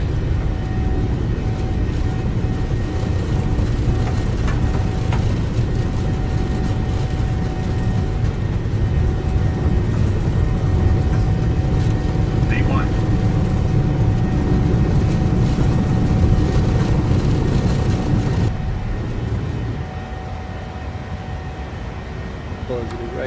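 PMDG 737-800 jet engines spooling at takeoff thrust in Microsoft Flight Simulator, a loud steady broadband roar lasting nearly twenty seconds before easing off, with a voice talking over it.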